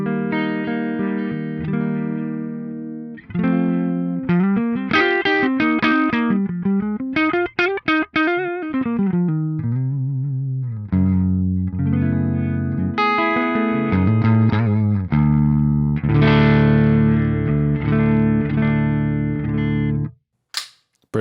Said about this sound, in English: let's hear some clean tones. Starting with the neck humbucker.